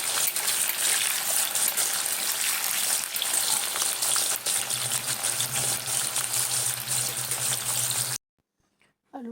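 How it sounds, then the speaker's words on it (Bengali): Potatoes crisping in oil for a jackfruit vegetable curry: a loud, dense, bubbling sizzle runs steadily, close up, then cuts off abruptly to near silence before a brief faint noise at the end. "আলুটাকে সুন্দর করে কড়া করে ভেজে নেব।"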